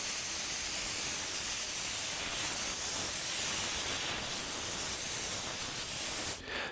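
A spray gun lays a light-to-medium coat of paint on a car, giving a steady, loud, even hiss that runs unbroken and cuts off near the end.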